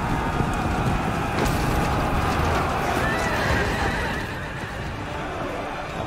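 Cavalry horses charging in the strategy game Total War Saga: Thrones of Britannia, with loud, steady hoofbeats and whinnies over continuous battle noise for several seconds.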